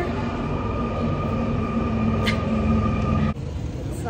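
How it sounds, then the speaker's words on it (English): A Paris metro train rolls into a station, its loud, steady rumble and rail hum filling the space close by, then a sudden drop in noise as it slows near the end. "train's here."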